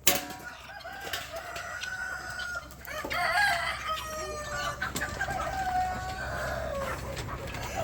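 Free-range chickens on a homestead clucking nearby while a rooster crows repeatedly, with a mix of close and more distant calls layered over a busy outdoor backdrop.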